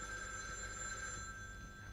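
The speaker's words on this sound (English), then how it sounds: "Okay, phone's ringing." A telephone rings with a steady electronic trill in the video game The Evil Within 2, moderately loud over a low background hum, with no talking.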